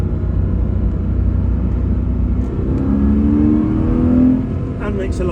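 A Porsche Boxster engine rumbles steadily, its pitch dropping and climbing as it shifts down, close and loud, with faint voices underneath.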